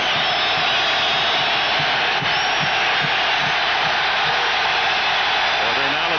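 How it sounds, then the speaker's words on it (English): Football stadium crowd at the 1990 AFC Championship, a loud dense roar that holds at full intensity throughout, with faint voices buried in the noise. "they raised the intensity of the crowd noise"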